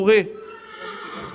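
A horse gives a short, loud whinny in an indoor riding arena during a hoof-control session, then a person's voice continues talking over quiet background.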